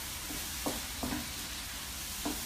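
Onions fry in a pan for aloo gobhi, a soft, continuous sizzle with a few faint spatula taps and stirs spaced across the short stretch.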